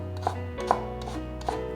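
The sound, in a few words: knife chopping carrot into strips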